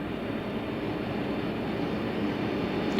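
Steady, loud aircraft engine drone heard from inside the cabin of a plane other than a 747, a broad constant roar that swells slightly toward the end.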